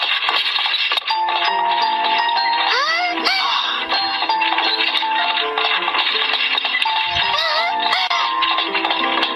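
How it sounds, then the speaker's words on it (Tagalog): Big Ben clock chimes in an animated scene, sustained bell-like ringing tones layered over music with some sliding pitches, loud and continuous throughout. "Yun ang tunog ng Big Ben."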